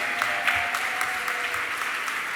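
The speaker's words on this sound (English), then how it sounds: "Ladies and gentlemen, another round of applause for Maria one more time." At the 2025 Ellies Awards ceremony, the audience gives Maria a brief round of applause: dense, even clapping from a crowd lasting a couple of seconds, with a faint steady tone in the background.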